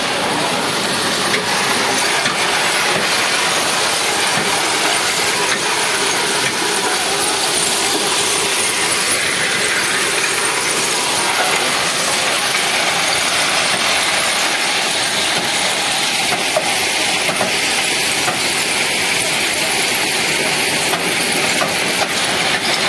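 A freight train lays stone ballast on the new Tarakeshwar–Bishnupur railway line near Moynapur station. A loud, continuous rumble with rolling wagon noise and faint squeaks carries on for the whole stretch without speech.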